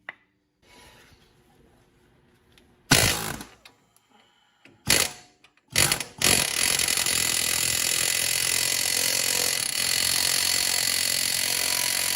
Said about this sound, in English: then I'm gonna come back with an air hammer